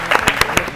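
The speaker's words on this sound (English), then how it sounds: "Let's clap for them once again." Audience applause at a school quiz competition, a short burst of loud, close claps in an uneven rhythm.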